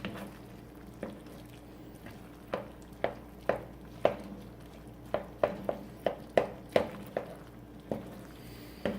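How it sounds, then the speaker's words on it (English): A spoon stirs keto food as it boils down in a pot, making sharp scraping taps at an irregular but steady pace over a quiet low bubbling background. "Or you just keep stirring it and you can boil this down a little bit more."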